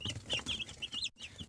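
Young Brown Nick chicks cheep in high, repeated peeps, a busy cluster of small birds close by with a soft background rustle.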